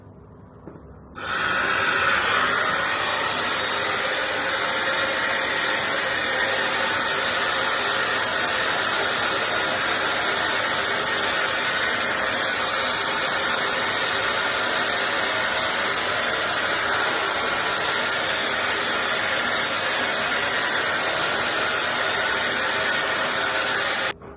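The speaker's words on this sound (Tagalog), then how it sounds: "So, ngayon, mag-blow dry na ako." A hair dryer blows steadily on damp hair for over twenty seconds, a loud, continuous airy whoosh that starts abruptly and holds constant to the end.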